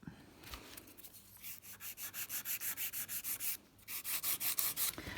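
An acrylic nail on a nail trainer hand is filed back and forth in fast, even rasping strokes, close and crisp, with one brief pause midway before the steady rhythm resumes.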